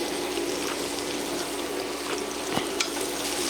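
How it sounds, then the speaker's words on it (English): Butter melting in a hot pan with crushed peppers and garlic for smothered chicken gravy, giving a steady, dense sizzle close up, with a couple of faint clicks and no talk. "Now we're gonna add our butter."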